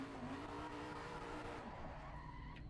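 A race car in a racing game pulls out of the pit at full throttle, engine note climbing under a steady roar with tyre squeal, fairly quiet overall.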